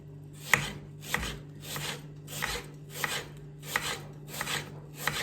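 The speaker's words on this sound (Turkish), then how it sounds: "Soğanımızı şöyle ince ince doğrayalım." A knife chops an onion finely and steadily on a board, about eight evenly spaced crisp strikes, close and unhurried, with no talking.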